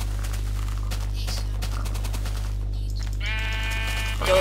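Minecraft sheep bleat in a survival game session, a short harmonic bleat rising near the end over a steady hum and game background noise.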